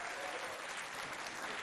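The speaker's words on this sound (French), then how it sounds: "On les applaudit." Dense, continuous clapping from a crowd of school pupils and onlookers at a school competition, loud and even across the short stretch.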